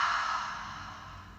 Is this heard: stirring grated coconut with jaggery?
no